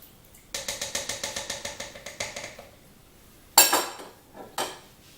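A spoon stirs turkey blanquette inside a Cookeo multicooker pot, giving a quick run of rhythmic metallic scrapes and clinks, followed by a couple of louder isolated clanks against the pot.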